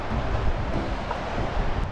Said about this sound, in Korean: 저 파도 좀 봐